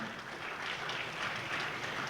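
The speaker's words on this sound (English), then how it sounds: "Let's have a huge round of applause for Shri Mukesh Bhatt." An audience at a cine expo applauds Mukesh Bhatt, a steady wash of clapping from a crowd, moderately loud and sustained for a couple of seconds with no talk over it.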